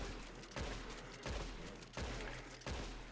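Gunfire in a Red Dead Redemption 2 horse test, four evenly spaced heavy shots roughly every two-thirds of a second, each with a sharp crack and a rumbling decay, fairly faint and with no talk.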